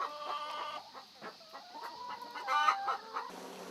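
A flock of about 200 farm chickens clucks and calls on an organic smallholding, overlapping near and mid-distance, with a short crow-like call rising midway and no talking.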